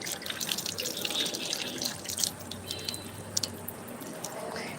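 Water running from mosque ablution taps, a steady broadband hiss with faint dripping and splashes, moderately distant and continuous, with no talk over it.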